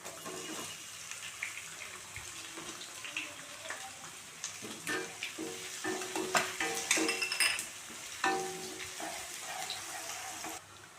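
Chopped onion sizzling and being stirred in hot oil with garlic in a kadai for chicken fried rice, with a steady frying hiss, scraping spatula strokes and metal clinks close up, and no talk.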